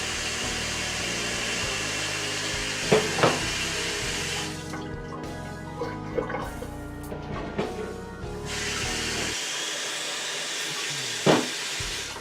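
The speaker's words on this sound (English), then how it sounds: "we're going to fill this up with water halfway" Tap water runs into a cooking pan being filled halfway for a turkey bean bowl, a steady rushing hiss that cuts out briefly midway, with a few clanks of the pan before and after.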